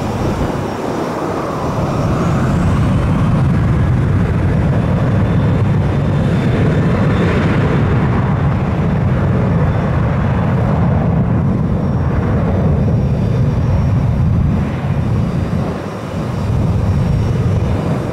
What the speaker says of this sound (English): Jet blast I'm getting.